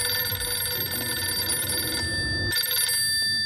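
A telephone bell rings steadily with a bright, continuous tone, cutting briefly around the middle before resuming, fairly close and loud.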